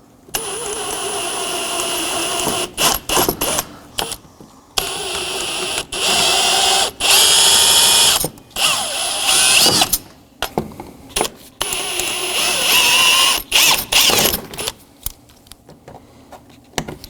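A drill with a 3/16 bit cuts the heads off steel rivets holding the front license plate bracket of a 2018–2024 Chevrolet Equinox, in repeated loud whining bursts that stop and start, separated by short pauses.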